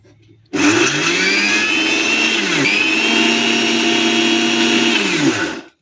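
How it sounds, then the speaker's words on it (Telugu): A mixer grinder crushes spices with chilli powder and salt added: the motor starts abruptly, whines loudly and steadily with a slight dip in pitch midway, then cuts off with a short spin-down, and no one talks. "మళ్ళీ ఒకసారి మిక్సీ కొట్టాలి"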